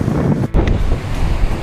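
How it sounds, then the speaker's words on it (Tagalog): Strong, cold wind at a typhoon-battered seaside beach in Bicol buffets the microphone in a loud, continuous roar, with a brief dip midway. "Grabe ang lakas ng hangin."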